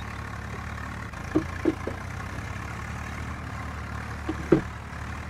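A Swaraj 855 4X4 tractor engine in Farming Simulator 19 idles with a steady low rumble, broken by a few brief knocks and clunks, with no one talking.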